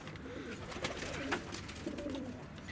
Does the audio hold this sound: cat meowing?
no